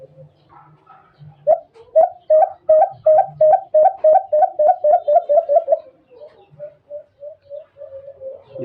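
A baylan bird call used to lure birds for hunting: about a dozen clear cooing notes repeat quickly in a steady run, then give way to softer, slower notes close by.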